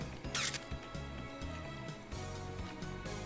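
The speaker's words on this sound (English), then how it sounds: "A sudden shutter sound cuts through the room." A phone camera shutter clicks once, sharp and brief, in a Steins;Gate RE:BOOT scene, standing out near the start over a steady bed of game background sound.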